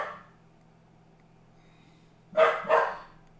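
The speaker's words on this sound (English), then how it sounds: "Oh goodness, Max is barking" Two quick barks from a dog at moderate distance, breaking a near-silent background after a brief earlier noise.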